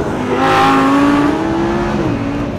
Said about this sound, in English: It sounds just like a Lamborghini should sound.